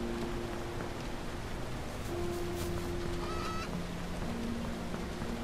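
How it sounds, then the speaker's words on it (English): Chickens cluck faintly in the open-world survival horror game Lex Mortis, a few soft calls rising out of a steady, hissing, rain-like ambience. "I can hear chickens there. There's chickens in there!"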